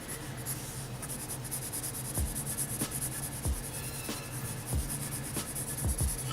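Pencil sketching on paper, a steady soft scratchy rasp of graphite strokes with occasional light taps, close and quiet, no voices.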